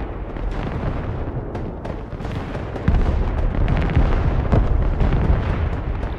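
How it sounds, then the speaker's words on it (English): Heavy bombing explosions in the real-time strategy war game Broken Arrow, a dense rumbling barrage of booms and bursts that swells louder about halfway through, continuous and close without any voices. "I'm gonna try and have a go at bombing him"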